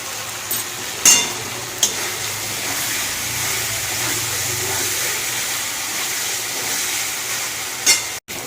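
Masala being sautéed in a pan, heard as a loud, steady sizzle and hiss close up, with a few sharp utensil knocks and no talking.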